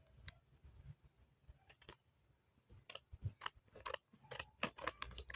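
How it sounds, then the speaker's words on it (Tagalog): Scissors snipping open the plastic packaging of a Super Crunch Beanie, a run of short crisp cuts and crinkles, close and fairly quiet, growing busier toward the end. "So, andito na yung gunting."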